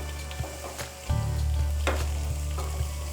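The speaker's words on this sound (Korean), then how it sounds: "기름을 충분히 달군 후에 양파랑 대파 잘게 다진 거를 넣어주세요" Finely chopped onion and green onion hit hot olive oil in a pan, bursting into a loud, steady crackling sizzle after a few soft clinks, continuing close and even with occasional pops and stirring.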